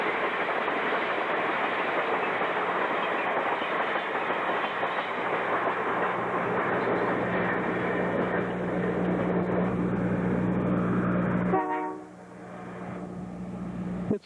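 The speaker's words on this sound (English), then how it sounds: "northbound mixed train 421 passes by with engines 1803 and 1520 on their way to Moosonee, Ontario" Ontario Northland mixed train 421, northbound to Moosonee with engines 1803 and 1520 hauling freight and passenger cars, rumbles past loudly with continuous rolling clatter and a steady engine hum, then the noise drops off abruptly as it clears.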